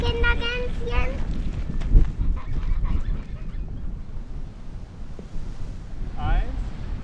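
Wind buffets the microphone in a steady low rumble beside a camper van in Armenia, with geese honking briefly near the start and again toward the end, and a voice speaking at the beginning.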